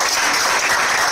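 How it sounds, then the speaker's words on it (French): A church congregation applauding during a French-language seminar service, a dense steady wash of many hands clapping throughout the short burst, loud and close with no voices. "On se met d'accord à donner une acclamation au Seigneur"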